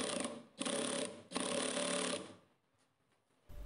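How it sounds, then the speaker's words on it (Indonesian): A power driver drives screws into a wooden TV cabinet, buzzing in three loud bursts with brief pauses between, then falls quiet before a short final whir at the end. "Kemudian saya skrup."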